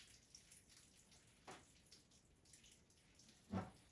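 Water from a washout spray running over screen printing emulsion on a screen, a faint steady hiss of flowing water with scattered soft drips and one louder splash near the end.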